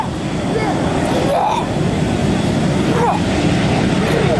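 Blue Angels jets taxiing toward the runway end at a 1997 military air show at Quonset ANGB, a continuous loud engine roar with rising whines, under a public-address announcer.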